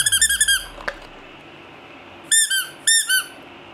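A squeaky rubber duck toy gives a quick series of sharp, loud squeaks, goes quiet, then squeaks twice more close up.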